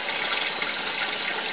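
A Canadian-made Simplicity twin tub washer fills with water under strong pressure, making a steady rushing gush that stays close and loud throughout, with no talking.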